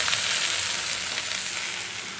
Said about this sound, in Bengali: আর এখানে কষা হচ্ছে